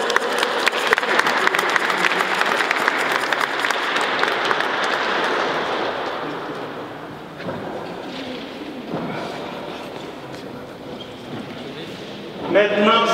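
A church congregation applauding at an Easter service: dense, sustained clapping that fills the room for several seconds, then thins out and fades as spoken words come in underneath, with a brief final flurry near the end.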